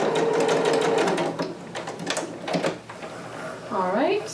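A sewing machine back stitching fabric while sewing a Vogue 2530 pattern, its rapid needle chatter running in short bursts, stopping and restarting, with a person speaking over and between the runs.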